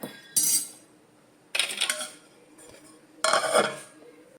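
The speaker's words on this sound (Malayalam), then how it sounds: "തിളയ്ക്കാൻ വേണ్ടി നമുക്കൊന്ന് മൂടി വെക്കാവേ" A lid set down on a pot of plantain curry being brought to a boil, giving three separate metallic clanks and rattles spaced apart, each brief and fairly close.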